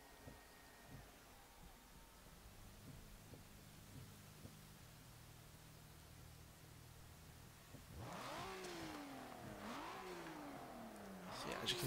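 In Forza Motorsport 7, a stock-engined 2018 Kia Stinger GT gives a low idle rumble with faint clicks, then suddenly revs hard, its pitch climbing and dropping through several sharp surges.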